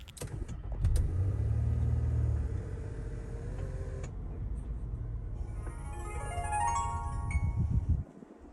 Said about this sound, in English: Now let's start the car.